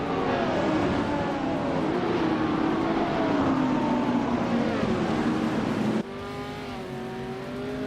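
Ferrari 512M racing cars in a racing video game, a loud continuous engine roar with rising and falling revs from several cars, dropping briefly to a lower steady drone near the end.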